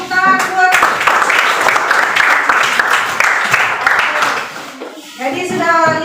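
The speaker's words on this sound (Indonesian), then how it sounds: "Oke, tepuk tangan buat." Children in a classroom clap together in a burst of loud, close applause, framed by a voice speaking before and after.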